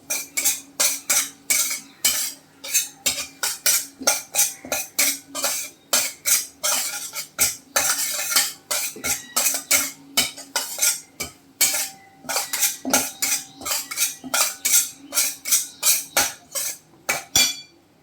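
Semolina (rava) roasting on low heat in a pan for kheer, stirred with a spoon in quick rhythmic strokes that scrape and clink against the metal for the whole stretch, close and fairly loud, with no talking.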